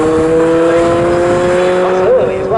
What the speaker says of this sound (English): And Gary Bate brings the Greenheath car into the pit lane and straight into the garage.